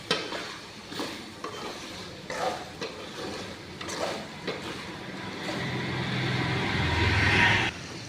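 Potato mash frying in oil is stirred in a pan, with scraping strokes and a steady sizzle that grows louder toward the end, close by and without talk.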